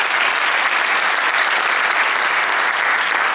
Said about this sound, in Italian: Invece la vostra compagnia, al quale farei un grande applauso, la compagnia Teatro Comico degli Abruzzi,